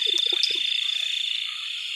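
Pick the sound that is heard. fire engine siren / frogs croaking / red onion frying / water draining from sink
frogs croaking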